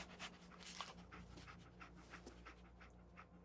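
Dogmeat, the companion dog in the video game Fallout 4, panting close up in quick, rhythmic breaths with a faint whimper, over a low steady background hum.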